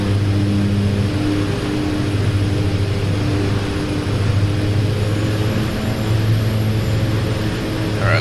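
An OV-10 Bronco twin-turboprop drones loud and steady through a low flyby in the DCS World 2.7 flight simulator, a continuous close engine roar with a hum that stays even throughout, with no talking.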